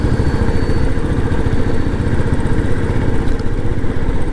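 A motorcycle engine thrums steadily and loudly while the bike rides along an early-morning road outside Chennai, with constant wind and road rumble and no talk.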